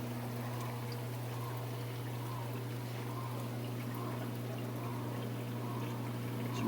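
Steady water flow and churning bubbles from a protein skimmer on a 40-gallon reef aquarium, running a little wet, with a constant low pump hum underneath, continuous and even throughout.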